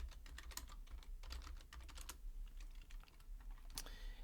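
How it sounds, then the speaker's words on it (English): Rapid typing on a computer keyboard, with irregular bursts of key clicks running steadily throughout with no voices. "I'll type the string myself"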